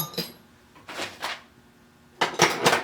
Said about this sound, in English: See if I can knock that pin out of there. It should come out fairly easy.